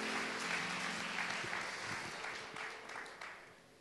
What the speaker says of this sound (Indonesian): Boleh kasih tepuk tangannya sekali lagi buat mereka.